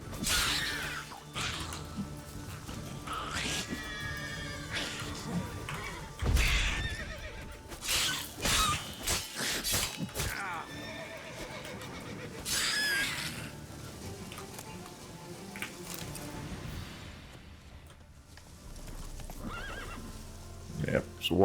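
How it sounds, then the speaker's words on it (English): A wild horse whinnies and neighs several times over hoofbeats and game sounds in The Witcher 3, while a person talks throughout. "Yep, it's a wild horse."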